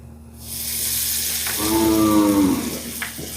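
A children's snack frying in hot oil, with a close, steady hiss of sizzling that grows louder midway and stays continuous, broken by a brief tonal squeal.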